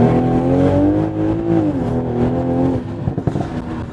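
Toyota Supra engine revving, a loud close steady exhaust drone that rises and dips in pitch before tapering into rougher low rumbling.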